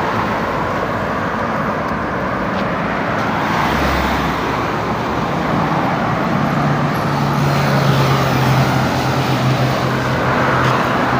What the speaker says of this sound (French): La circulation est dense et fluide à la fois.